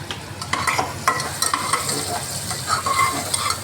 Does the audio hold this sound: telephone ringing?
no